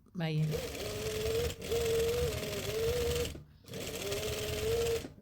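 A sewing machine stitches shirring gathers on a dress in two long humming runs with a short pause between them, close and fairly loud, with a brief voice at the very start.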